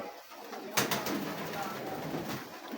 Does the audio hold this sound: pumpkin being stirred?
no